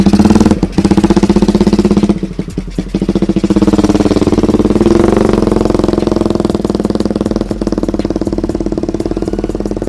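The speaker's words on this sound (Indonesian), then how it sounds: "Ya ada motor lewat." A motorcycle engine runs close by on a beach road at Laugending, a steady, loud mid-pitched drone with a slight swell partway through, and no voices over it.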